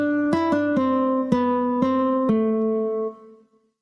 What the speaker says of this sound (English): If I press a preset that says guitar, I want it to sound like a guitar.